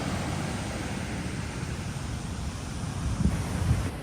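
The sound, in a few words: ocean waves on a beach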